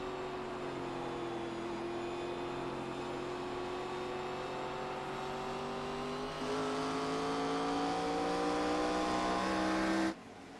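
ARCA Series stock cars roaring around the Gateway oval, a loud sustained engine drone whose pitch slowly rises as a pack passes close, cut off abruptly near the end.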